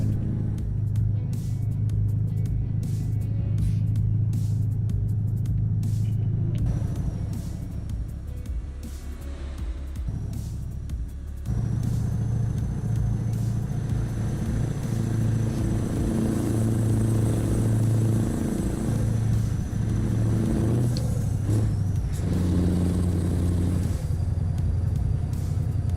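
A loud, steady truck engine with straight pipes in Euro Truck Simulator 2 rumbles throughout, its raw exhaust note rising and falling with the revs, no voices.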